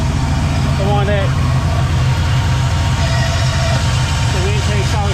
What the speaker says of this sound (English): car started up there now